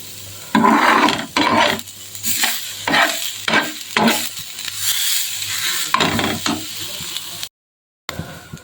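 Chicken curry masala frying in a pan, with a steady sizzle under rhythmic, scraping spatula strokes repeated every half second or so, then a brief silence near the end.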